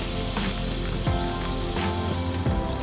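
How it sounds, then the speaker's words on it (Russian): Cold dark beer, straight from the fridge, is poured over a portion of okroshka, a steady close fizzing hiss of foam rising for a few seconds with no speech. "Заливаем порционную окрошку холодным, прямо из холодильника, насыщенным с карамельными нотками пивом, с пенкой, как положено."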